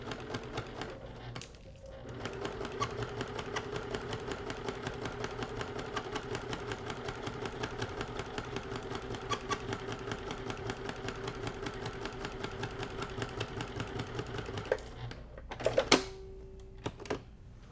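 A sewing machine stitches a quilt-as-you-go table runner through batting with 28-weight thread at a 3.5 stitch length: steady, rapid rhythmic clatter for about thirteen seconds, then it stops with a few clicks.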